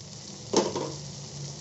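Onion, ginger, garlic and tomato frying in a pan, a soft steady sizzle broken by one brief louder burst of crackle and scraping near the middle, close up with no voices.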